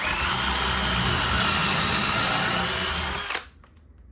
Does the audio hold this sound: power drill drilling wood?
yes